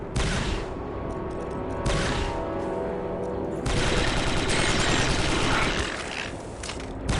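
Blaster gunfire at battle droids in the video game Star Wars Republic Commando, a dense, loud, sustained barrage of shots with brief lulls, rising again into heavy continuous firing.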